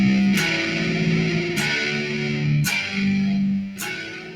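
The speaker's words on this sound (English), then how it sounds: "Bit of distortion. Sounds like a guitar." Distorted electric-style guitar played through a Jammy G MIDI guitar, sustained chords with four sharp strummed attacks roughly a second apart, loud and alone.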